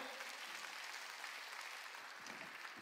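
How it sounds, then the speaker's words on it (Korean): A church congregation claps during a Korean sermon, a soft, continuous patter of many hands heard faintly and at a distance for a few seconds. "믿으면 박수치라"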